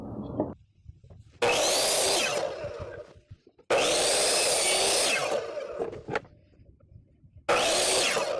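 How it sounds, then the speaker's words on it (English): A saw cuts through half-inch plywood in three loud bursts of a few seconds each, with quiet gaps between them, while a French cleat holder is built in a garage workshop. "first step is to cut my base 1/2-inch plywood here to the correct length and my 2x2"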